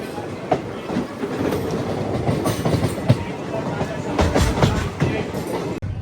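Krishna Express passenger train running steadily after departing Jangaon station, a continuous loud rumble with rhythmic wheel clatter and rattling carriages heard from onboard, with occasional faint voices in the background.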